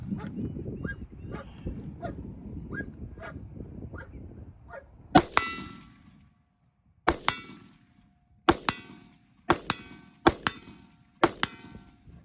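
Rifle rounds from an AR-15 striking a steel silhouette target at 100 yards: about seven sharp metallic clangs spaced a second or so apart, each ringing briefly, following a stretch of low background rumble and faint bird honks.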